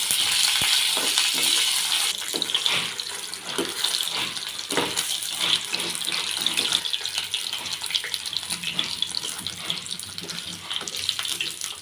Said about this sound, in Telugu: ఇట్లా ఆయిల్లో వేయించుకోవాలండి.